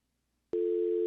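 A telephone busy signal on a call: after half a second of near silence, a loud, steady tone holds without a break to the end of the clip.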